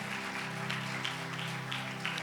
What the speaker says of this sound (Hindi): जोरदार तालियां प्रभु की उपस्थिति के लिए बजाएंगे।